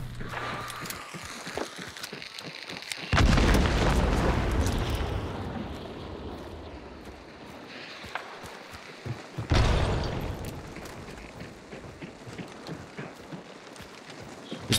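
Two heavy booming blasts from a bomb in the game Hunt: Showdown, each a loud deep burst that rumbles away, amid faint footsteps and game noise.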